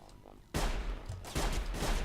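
A burst of gunfire in the stealth-survival game Sir, You Are Being Hunted: a loud sudden shot cracks out, followed by a second heavy blast a moment later, with a faint voice murmuring beforehand.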